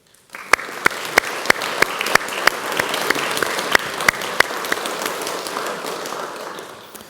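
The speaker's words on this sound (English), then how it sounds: "they deserve a pretty big round of applause" An audience applauds steadily, with sharp individual claps standing out early before the clapping gradually fades toward the end.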